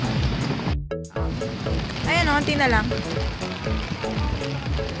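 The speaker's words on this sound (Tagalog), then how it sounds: "Umuulan na po." Steady rain falls outdoors at night in Taiwan as a dense, even hiss that fills the whole scene, while someone speaks briefly over it.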